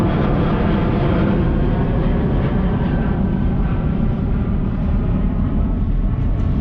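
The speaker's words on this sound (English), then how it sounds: "You have the airplane right there flying, making its way towards Oakland, or maybe it's departing Oakland." An airplane flies overhead near Oakland above the bay off Alameda's Bay Farm Island, a loud, steady, broad engine roar that holds constant throughout with no talking.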